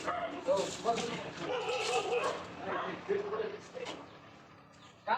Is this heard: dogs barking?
yes